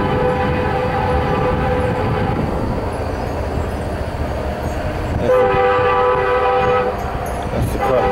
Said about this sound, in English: Focus on that train.